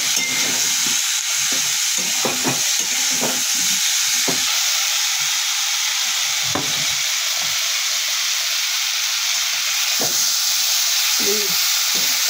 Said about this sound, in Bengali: এতে দিলাম পরিমাণ মতো নুন, দিয়ে দিলাম অল্প হলুদ, দিয়ে এবার একটু কষাবো।